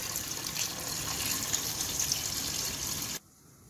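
Water pours steadily into a couscous pot with chickpeas for about three seconds, a continuous splashing rush that cuts off abruptly near the end.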